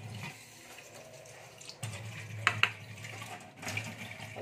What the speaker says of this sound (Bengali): এবার সর্ষেটাকে আমি জল দিয়ে একটু ভেজাবো